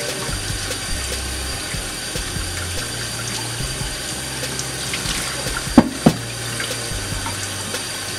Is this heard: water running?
yes